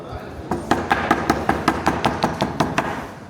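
A hammer pounds slices of papyrus in a steady rhythm of about a dozen close, dull thuds, evenly spaced and fairly loud, pressing water out.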